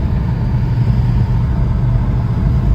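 BMW E60 M5 with a Dinan tune on the intakes and exhaust, heard as a loud, steady close-up engine drone with a deep low rumble that holds constant throughout, with no clear rev rise.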